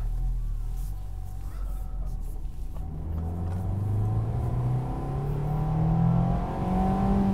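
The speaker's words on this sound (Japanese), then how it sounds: "もうエンジンの音が全然気持ちいいね。 やっぱさっきより響きが良くなってますね。" A Mazda Roadster RS engine, with an asymmetric LSD, revs while driving on the road, its loud rising drone climbing steadily in pitch as the car accelerates, heard from inside the cabin.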